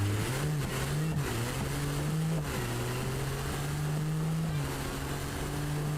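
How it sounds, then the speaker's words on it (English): W12 car engine in a video game, a steady droning tone that rises and dips with throttle changes, loud and close throughout with no talking. "I don't think that's what a W12 sounds like"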